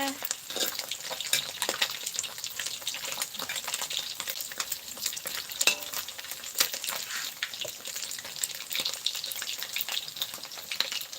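Fish fries in hot oil with a continuous crackling sizzle and scattered sharp pops, steady and fairly close throughout.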